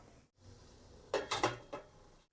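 A pot lid set down over fish steaming above boiling water on a medium flame gives a few quick close clatters of metal over a faint steady background.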